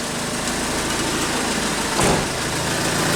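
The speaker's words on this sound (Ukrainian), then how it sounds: "Відповідно, автомобіль вже не глохне." A Renault Trafic van engine runs steadily without stalling, a dense, loud, even drone heard up close with a brief swell near the end.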